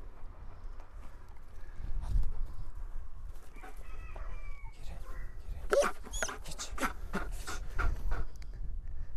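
A female Belgian Malinois pants softly and steadily outdoors, the faint breathing running alongside scattered handling noises and brief sharp sounds, with no one speaking.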